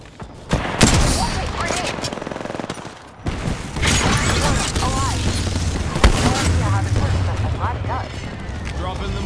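Heavy gunfire and explosive booms from Apex Legends, loud and continuous, with a character's voice talking over the shooting throughout.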